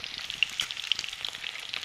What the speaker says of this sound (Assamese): কেৰাহীত মাছ বহাই থৈ দিছোঁ